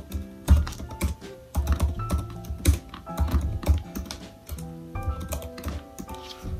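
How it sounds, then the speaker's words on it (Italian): An Apple Mac keyboard is typed on in quick irregular bursts of close, crisp key clicks, with short pauses and no voices. "Tastiera ottima, ottima, ha un ottimo rumore, anzi, lo faccio sentire."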